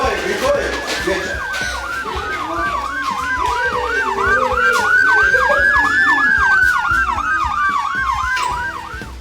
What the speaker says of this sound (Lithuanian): Greitoji, greitoji.